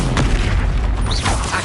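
Expulso explosion spell going off in Hogwarts Legacy, a loud booming blast with a heavy low rumble that fills the whole moment, followed by a brief whooshing sweep.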